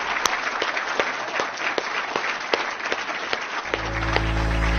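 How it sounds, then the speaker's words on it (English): Dense, sustained applause from an audience honoring nominees and recipients at a formal ceremony, steady and fairly loud for several seconds before a low hum takes over at the end. "Let's give one more round of applause to our nominees and recipients"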